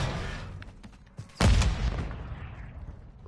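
Call of Duty MW3 battlefield blasts, with faint distant gunfire and pops leading into one sharp, loud explosion whose booming rumble decays over a couple of seconds.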